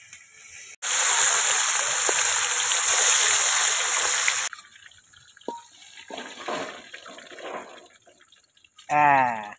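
Fish frying in a pan for katla fish kalia, a loud crackling sizzle for a few seconds that then drops to quieter spitting and clinks, with a brief voice near the end.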